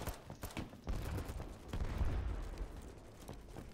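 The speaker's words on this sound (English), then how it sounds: "Something's shooting at us." Gunfire in the video game Battlebit Remastered, a dense stream of rapid shots and crackling bursts that runs continuously at moderate loudness with no talk.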